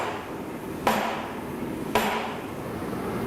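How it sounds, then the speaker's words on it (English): Two sharp metallic hammer strikes ring out about a second apart while coins are being made by hand, each a loud, bright impact with a short ringing decay over a quiet background. "Try and swing a hammer because I've got to be in control."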